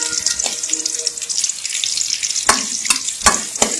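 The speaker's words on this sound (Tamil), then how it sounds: "ஒரு 5 நிமிஷம் இஞ்சி பூண்டு பச்சை வாசனை போற மாதிரி வதக்குறோம்." Ginger garlic paste sautéing in a hot pan, a steady sizzle and hiss with a few sharp clinks and scrapes of a spatula stirring near the end.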